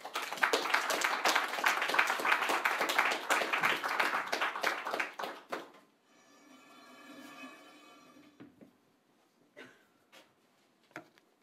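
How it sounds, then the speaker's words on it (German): Dense, loud audience applause welcoming guests at an evening literary event at the Literaturforum im Brechthaus, lasting about five seconds before dying down to a quiet room with a few scattered claps and small noises. "wenn wir unsere Gäste gemeinsam und alle Gäste dieses Abends mit einem herzlichen Applaus begrüßen könnten."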